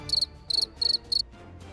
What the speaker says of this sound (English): fucking crickets